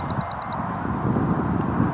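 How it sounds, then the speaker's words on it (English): An RC DVR gives three quick, high-pitched beeps in the first half second because it has no video signal, then falls silent over a steady low background rumble. "beeping tells me it's not getting a video signal"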